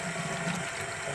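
Water runs steadily from a tap while a trout is gutted, a continuous close hiss and splash over the short stretch with no talk.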